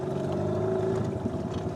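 A small boat's outboard motor runs steadily in reverse during a fishing outing, a continuous close droning hum with a steady whine and some wind over the water.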